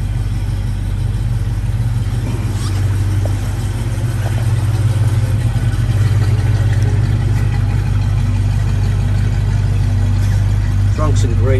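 A 1968 Mercury Cougar engine runs steadily at idle with a loud, constant low rumble that holds throughout, close to the car.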